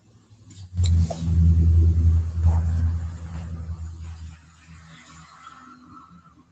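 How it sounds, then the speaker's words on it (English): A truck rumbles past nearby, its low engine noise swelling loud within a second, holding for a few seconds, then fading away as it recedes. "I'm not sure what kind of truck that was"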